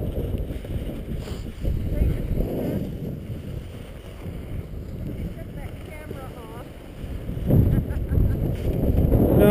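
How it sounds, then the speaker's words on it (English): Wind blows steadily across the microphone outdoors, a continuous low rumbling roar that swells louder toward the end, with faint voices now and then beneath it. "It's all frickin' wind blowing"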